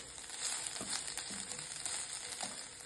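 Dried shrimp tossed with chilli powder fry in a pan, giving a steady close sizzle with a few soft stirring scrapes and no voices.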